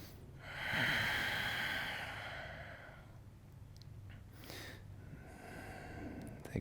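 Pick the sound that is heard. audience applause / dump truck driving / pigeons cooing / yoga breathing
yoga breathing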